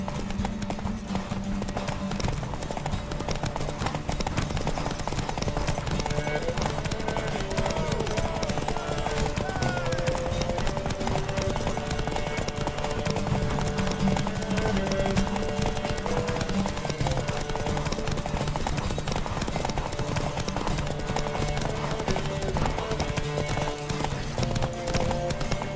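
Hooves clip-clop steadily through a horse race in The Witcher 3, with music and game sounds running underneath and voices speaking over the action throughout.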